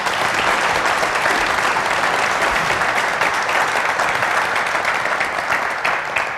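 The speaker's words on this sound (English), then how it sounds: "Please give them a round of applause." An audience at a chamber forum on youth services applauds the panelists, with loud, steady, dense clapping that continues evenly throughout.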